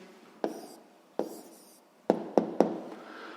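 A pen taps and scratches on paper while an answer is written down, with a few sharp knocks spaced unevenly over a quiet room background.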